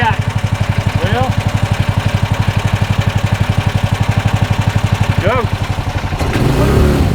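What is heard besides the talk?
420cc gas golf cart engine idling and revving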